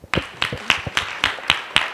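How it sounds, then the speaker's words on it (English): An audience at a work readiness session claps in a steady rhythm for a well-dressed woman, about eight sharp even claps in two seconds, close and distinct. "Can you clap for her?"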